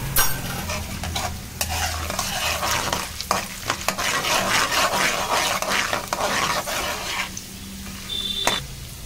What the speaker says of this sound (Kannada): ಕಡಲೆಕಾಯಿ ಬೀಜ ಮತ್ತು ಕಡಲೆಬೇಳೆ ಮತ್ತು ಉದ್ದಿನ ಬೇಳೆ ಹಾಕ್ತಾರೆ.